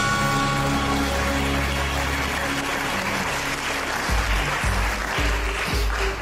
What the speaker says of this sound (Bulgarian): аплодисментите на публиката